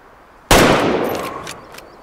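A single sharp hunting rifle shot rings out in the video game Way of the Hunter, a loud sudden crack followed by a long decaying echo rolling off across open terrain.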